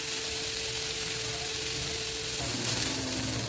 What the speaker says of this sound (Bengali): এইবার ভালো করে ভেজে নেবো